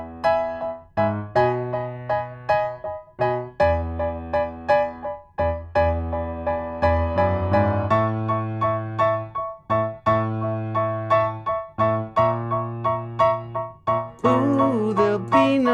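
Solo piano playing the chords of a Christmas song in a higher octave, a steady sequence of rhythmic struck chords with sustained ringing between strikes, clear and close with no voice.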